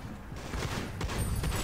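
Gunfire from a shotgun in the online shooter Shadowgun Deadzone: a few sharp blasts amid a busy, noisy firefight, with the shots bunched close together and no talking.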